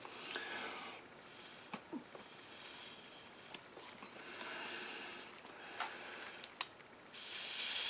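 Air is blown through the carburetor needle seat of a Cub Cadet pulling tractor, giving short breathy hisses and puffs up close, with small clicks between them.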